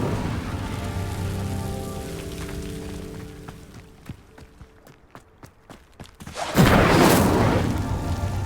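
A fire spell cast at a pyre in Hogwarts Legacy bursts into a loud whooshing roar of flame after a run of soft plucked ticks, the blaze rushing up abruptly and holding steady to the end.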